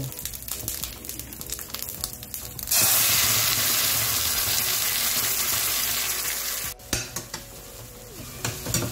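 Spice paste for a Bengali prawn malai curry hits a hot pan and bursts into a loud, steady sizzle, with stirring and metal scraping before and after the frying.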